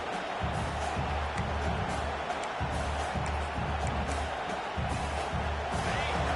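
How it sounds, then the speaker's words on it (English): A large stadium crowd at a football game roars and cheers continuously, a dense wash of noise with rhythmic low thumps like stomping or clapping underneath. "Listen to this crowd just shaking the girders of this place, trying to help their defense."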